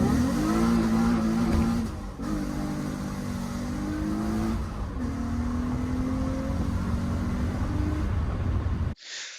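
A car engine revs repeatedly up and down with a loud exhaust drone, close to the microphone, cutting off abruptly at the end.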